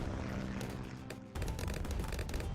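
An airplane placed in the Bloons TD 6 video game gives a steady propeller drone that cuts out briefly and then returns louder, layered with other game sounds.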